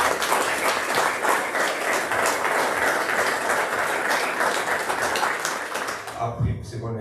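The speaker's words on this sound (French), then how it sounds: "ils méritent des applaudissements" An audience at a press conference for a boxing and K1 fight event gives sustained applause for the fighters, with dense clapping that holds steady before it tapers off at the end.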